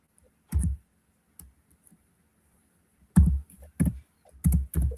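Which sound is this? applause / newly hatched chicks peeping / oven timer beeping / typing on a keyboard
typing on a keyboard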